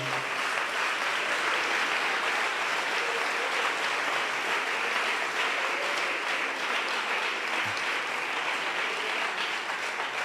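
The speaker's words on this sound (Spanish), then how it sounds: "Dele ese aplauso al Rey de Gloria" A church congregation applauds during a sermon, a dense continuous roar of many hands clapping that holds steady and loud for about ten seconds, with no voice over it.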